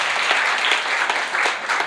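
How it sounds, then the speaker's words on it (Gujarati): An audience claps in sustained, dense applause at a welcome ceremony for a Jyoti Kalash procession at the Gayatri Pragya Peeth in Virpur. The clapping is loud and even from start to finish. "એમને એકવાર તાળીઓથી વધાવો"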